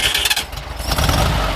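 A 1974 Volkswagen Karmann Ghia fitted with a sport exhaust cranks and catches, a loud close starter whir giving way to a rough, rumbling engine settling toward idle.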